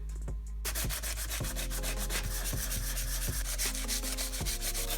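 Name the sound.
hand sanding aluminum cover with block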